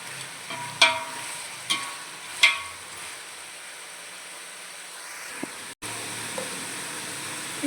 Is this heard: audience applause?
no